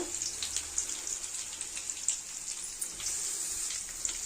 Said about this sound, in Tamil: இது எல்லாத்தையுமே சேர்த்து நம்ம வதக்கிக்க போகிறோம்